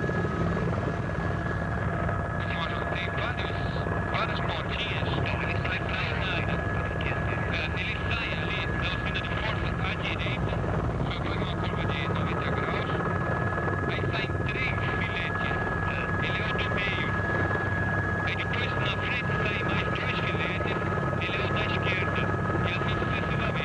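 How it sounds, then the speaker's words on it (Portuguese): Helicopter flying over the Tietê river, a steady loud rotor and engine drone with a constant whine running throughout, close and continuous with no talk. "Os pilotos do helicóptero estão tentando seguir o mapa."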